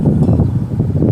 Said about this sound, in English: Boy, this is going to be a very windy day.